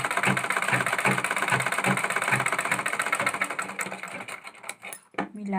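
A sewing machine runs steadily, stitching a lace sleeve onto a garment, with a fast, even mechanical chatter that slows and stutters near the end.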